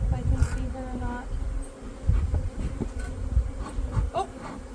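Honey bees buzz densely around a nucleus colony frame during hive installation, a close, steady hum with scattered handling knocks and rustles.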